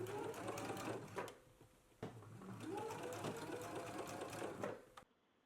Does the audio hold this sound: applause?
no